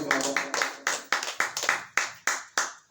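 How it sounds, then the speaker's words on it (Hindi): About a dozen claps come from a small gathering at an uneven, loose rhythm, each one sharp and ringing briefly in the room, near and moderately loud, with faint speech at the very start. "ताली बजाओ"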